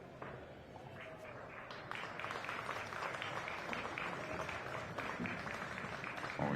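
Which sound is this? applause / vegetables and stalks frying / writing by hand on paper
applause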